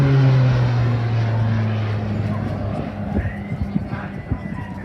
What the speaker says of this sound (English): That distinct noise you'll hear throughout the display is the uprated Garrett TPE turboprop engine fitted to the RF Tucano